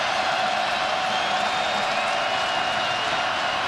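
Steady, dense stadium crowd noise at a college football game, Syracuse at Florida State, filling the whole stretch as a continuous loud roar with scattered cheers and no break.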